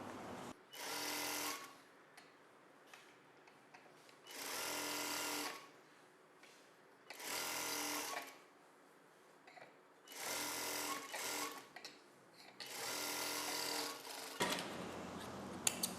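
Sewing machine stitching the back piece of a cross-cut blouse, running in five or six loud bursts of steady whirring with short quiet pauses between them, alone with no talk.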